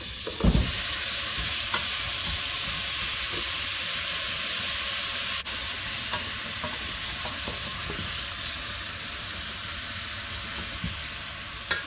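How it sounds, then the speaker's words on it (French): Meat sautés in a pot for an okra sauce with a steady, close sizzling hiss, broken now and then by faint scrapes of stirring, and no talking. "On fait revenir un tout petit peu et on rajoute ensuite la viande"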